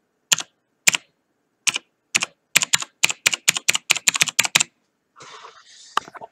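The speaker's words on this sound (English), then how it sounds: "It's got a bit of a typewriter sound to it because of the mechanical buttons." Individual keypresses on a Razer BlackWidow TE Chroma mechanical keyboard, close and loud in an otherwise quiet room, starting as spaced single clacks, then a quick rhythmic run of about a dozen strokes, with a short rattling burst at the end.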